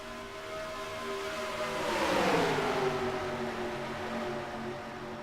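Race cars roar past at Homestead during a HERS Dash Series race, engine notes rising as they approach, peaking close by, then sweeping away with a pitch drop, loud and steady without talk.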